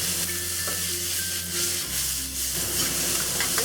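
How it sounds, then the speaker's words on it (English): Peas and onions stir-frying in a hot pan, a steady close sizzle with light scraping and tossing sounds, along with a low steady hum in the background. "Just give it a quick stir."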